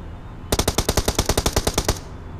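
Rapid automatic gunfire from a battle royale video game, about fifteen sharp shots in a steady burst lasting roughly a second and a half, loud and close with no talk.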